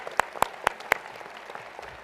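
A commencement crowd applauds faculty members: four crisp, evenly spaced claps ring out close up, then fade into soft, sparse clapping in the hall.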